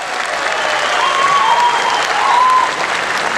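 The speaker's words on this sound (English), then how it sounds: "May I have a big applause for my crew?" A concert crowd applauds the touring crew in a dense, steady burst of clapping that swells slightly and then eases, loud and full, with no talk over it.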